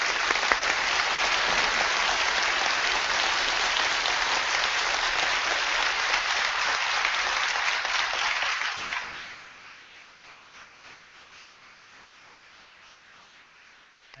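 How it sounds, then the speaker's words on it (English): Large debate audience applauding after a presentation, dense, loud sustained clapping filling the room for about nine seconds before dropping off abruptly to a faint lingering patter. "We can applaud Mr. Ham's presentation"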